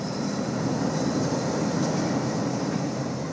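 A train runs on rails in a steady, continuous rumble and roar, with a constant loud wash of wheel and track noise and no voices.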